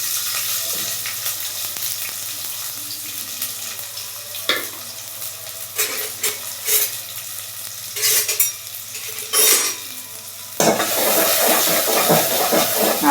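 Chopped onions and chillies fry in a pan, a loud close sizzle broken by repeated scraping stirs, and the hiss swells sharply near the end.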